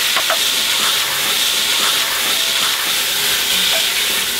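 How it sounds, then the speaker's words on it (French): Beef browns in a pot for barley soup, seasoned with salt and pepper, a loud, constant bright sizzle and hiss with a few faint clinks and stirring sounds. "Je fais revenir la viande."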